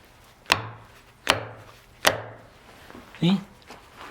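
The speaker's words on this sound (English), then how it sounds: "you can hear when your chisel is as deep as it's going to go" Three crisp mallet blows drive a chisel into wood at a steady pace, followed by a brief muffled voice near the end.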